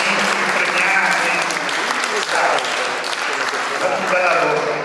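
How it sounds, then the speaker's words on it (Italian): An audience claps at an award ceremony in a palazzo, dense, sustained applause that fills the room at a steady level, with a brief dip in the middle. "facciamo un applauso a tutti perché tutti ci tengono a essere applauditi, premiati."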